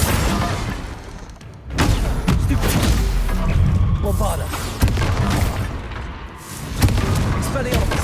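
Confringo explosion spells going off in the Hogwarts Legacy video game, several loud booming blasts and crashes amid battle noise, with a voice speaking over the fight.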